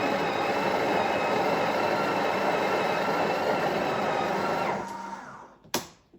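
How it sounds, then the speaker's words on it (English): A Breville Oracle Touch BES990BSS espresso machine grinds coffee beans in a loud, steady whir that holds for several seconds and then winds down, followed by a brief knock. "let it grind for 5 seconds"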